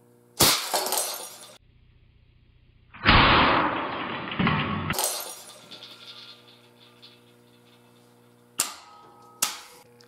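A glass light bulb shattering under a 7000 volt DC capacitor discharge: sharp cracking bursts followed by a loud hissing blast, then further snapping pops spaced apart, heard up close with no talking.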